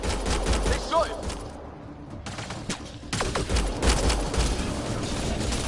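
Rapid gunfire bursts and shots in the sci-fi shooter Mass Effect Andromeda, loud and dense with a short lull midway, mixed with game sounds and some voices.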